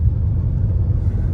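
A red Mercedes W124 being run in pulls away in first gear under light throttle, giving a close, steady low engine rumble with no talk.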